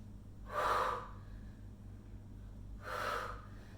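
Two heavy breaths during a split squat workout, each a loud, airy rush about half a second long, spaced roughly two seconds apart over a low steady background hum.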